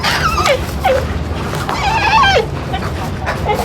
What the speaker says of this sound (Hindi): गाइस अब इस कुत्ते का नाम पता लगा, शेरू